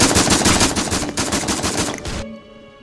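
A loud, rapid burst of automatic gunfire from the VR shooter game Pavlov hammers away for about two seconds, then cuts off sharply, leaving a brief ringing tail.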